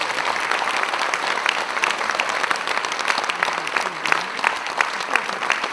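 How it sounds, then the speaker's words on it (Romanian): An audience at a Romanian folk performance, De dragul neamului meu, gives a performer, Viorel Bacamaniuc, a sustained, dense round of applause that stays loud and even throughout. "Haideți să-l aplaudăm încă o dată"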